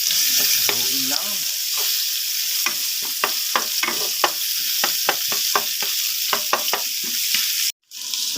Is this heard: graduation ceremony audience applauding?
no